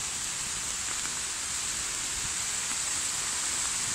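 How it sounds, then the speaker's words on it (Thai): Steady rain pours down in a continuous, even hiss, dense and close, with no voices over it. "เสียงฝนตกมาค่ะ"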